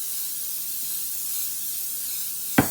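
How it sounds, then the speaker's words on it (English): A single quick burst of cooking spray is applied as a light coat to a casserole dish, a short hiss near the end after a stretch of quiet room tone. "We're going to go ahead now and spray our casserole dish."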